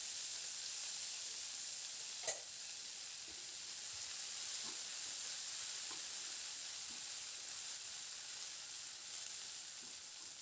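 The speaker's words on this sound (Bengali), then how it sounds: "এবার পেঁয়াজটা দিয়ে মিনিট 2-3 নাড়াচাড়া করে ভেজে নেব।" Finely chopped onion fries with spices in a pan, a steady, even sizzle with faint scrapes and taps as it is stirred, no voices over it.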